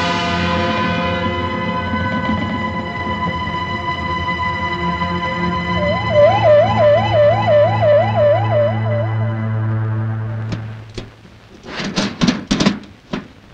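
An ambulance siren in a Kannada action film scene, a loud wailing warble rising and falling steadily over a low engine drone, then cutting off before a few sharp knocks.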